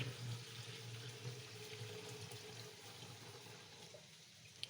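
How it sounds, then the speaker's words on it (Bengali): Water is poured into a cooking pan, running and splashing steadily for a few seconds, fairly quiet and close, fading slightly near the end with a small clink. "এখন একটু পানি দিয়ে দিতে হবে"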